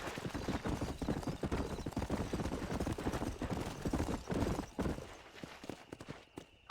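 Horse galloping in Red Dead Redemption, a steady rapid clip-clop of hooves running continuously and fairly loud, with a brief neigh hinted at and the pace easing slightly near the end.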